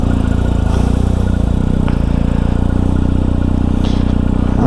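A BMW R1250GS Adventure motorcycle engine running at a steady, loud, close idle, with a continuous throbbing rumble and no talking.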